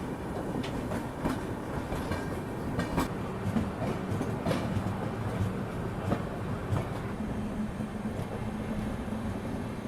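A train departs beside a parallel train on the Tamil Nadu Express route out of Chennai. Steady rumbling and clickety-clack of wheels over rail joints run throughout at moderate loudness, with no talk.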